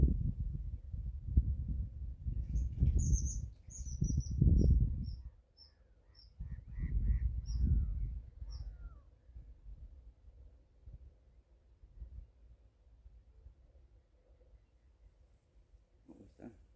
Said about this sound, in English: Some bird down there a second. Did you hear him?